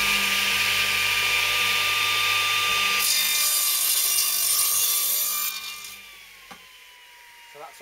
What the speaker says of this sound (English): So this one now is going to have the same angle cut on it.